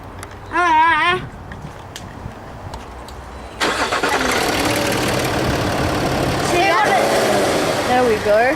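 Land Rover Discovery TDV6 turbocharged V6 diesel engine cranking and catching, then settling into a steady, close, loud running rumble with rising whine near the end; a brief chirping tone precedes the start.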